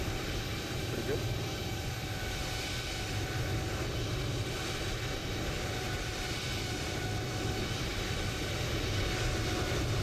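Steady, unbroken jet engine drone of a Boeing 737-800 from a flight simulator sound pack, a dense broadband roar with faint whining tones holding evenly throughout, with no breaks or changes.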